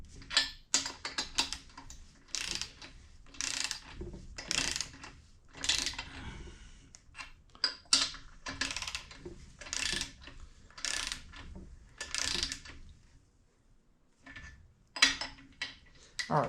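A ratchet tightens the bolts on a Kawasaki F11M engine during restoration, giving repeated bursts of rapid clicking pawl strokes close by, separated by short pauses as the wrench is reset.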